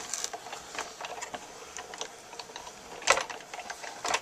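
A die-cutting machine runs paper through for embossing in a card-making setup, giving a steady soft mechanical whirring with light clicks and a louder clack near the end.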